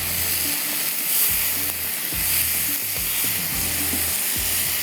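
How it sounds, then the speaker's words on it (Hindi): Chilli, ginger, garlic and spices frying lightly in butter for chicken methi kababs, a steady close sizzle with occasional stirring scrapes and pops running throughout. "ये बटर के साथ आपने इसको हल्का सा फ्राई कर लेना सारे मसाले"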